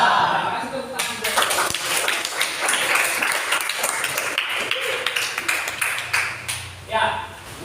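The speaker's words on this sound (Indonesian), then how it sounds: "Kasih tepuk tangan dulu." Students in an Indonesian history classroom clap together in a lively, close burst of hand claps lasting several seconds, mixed with voices and light laughter.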